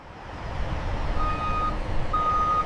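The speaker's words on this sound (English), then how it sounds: "The truck arrives at a regional distribution center that supplies local grocery stores." A delivery truck backs up at a regional distribution center that supplies grocery stores, its reversing alarm beeping steadily in two long tones over a continuous engine rumble.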